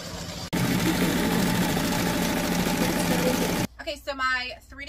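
An embroidery machine hums and stitches rapidly and steadily while sewing 3D puff embroidery, close up, then stops abruptly and a person starts talking.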